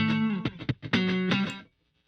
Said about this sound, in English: You can get like an echo.